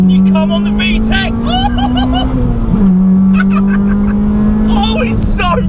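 Modified Phoenix Yellow Honda Civic EK9 Type R with a Spoon ECU, engine droning at a steady high pitch with a brief dip, under talking voices heard close by.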